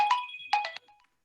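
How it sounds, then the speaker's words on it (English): A mobile phone's ringtone for an incoming call plays a short melodic run of bright tones, pauses briefly, plays a few more and then stops. "And I'm getting a phone call."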